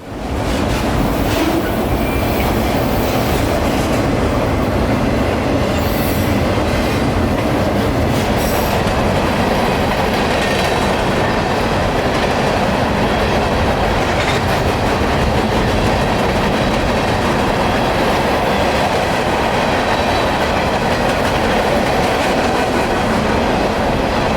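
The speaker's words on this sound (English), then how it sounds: "453 was just taking off after getting a new crew and switching his train out at Winston." A freight train departing Winston, Florida rumbles steadily and loudly close by for the whole stretch, with continuous rail clatter and occasional high wheel squeals.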